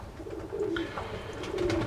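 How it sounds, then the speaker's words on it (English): Two curved tail doves coo softly indoors, low repeated cooing notes against a quiet background hum. "2 curved tail doves"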